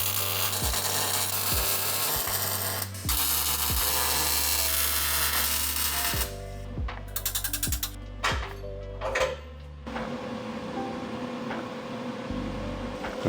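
Tack welding a bracket onto a first-generation Toyota Sequoia/Tundra frame: a steady crackling buzz with several short bursts, broken by brief pauses between tacks, close and fairly loud, no talk.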